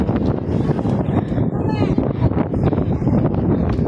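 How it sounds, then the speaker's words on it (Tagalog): Strong wind buffets the microphone in heavy, gusty rumbles while people talk nearby, outdoors by the Clock Tower in Tsim Sha Tsui, Hong Kong. "Lakas ng hangin."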